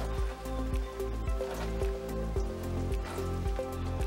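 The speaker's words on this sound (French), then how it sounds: "Et ensuite j'arrose délicatement." Sown herb seeds in soil are gently watered, giving a continuous close pattering and dripping like light rain on a surface, with rhythmic soft pulses throughout and no speech.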